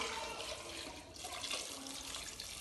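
Water pours from a jug into a pressure cooker in a home kitchen, making a short, faint, continuous splashing gush with no talking.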